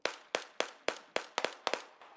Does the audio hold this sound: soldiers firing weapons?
yes